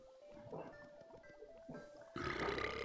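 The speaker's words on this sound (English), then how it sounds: "I'm getting burped in my ear." A burp lands close into the ear, low and guttural, with a louder, rougher burst near the end over a faint background.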